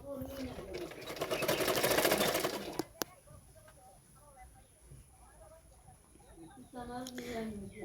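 A sewing machine stitches the folded-back belt of a size 36 katori blouse: a loud, fast run of close stitching lasts about two seconds, then the machine falls quieter with softer intermittent whirring while a voice talks over it.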